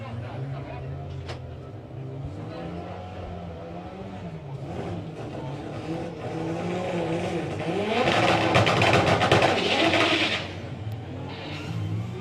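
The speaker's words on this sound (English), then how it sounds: "A lot of wheel spin off the start line." Front-wheel drive drag car launching off the start line at a doorslammer drag racing event, engine roaring loudly with wheel spin and tyre shake, the noise building toward a peak mid-way, with crowd or announcer talk mixed in.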